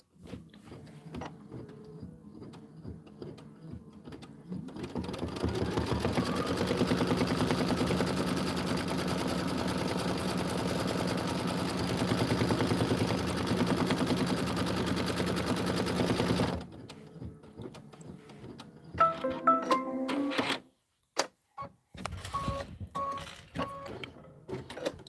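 An embroidery machine sews a placement stitch, a steady, loud mechanical chatter that runs for about twelve seconds before stopping, with quieter clicks and handling sounds around it.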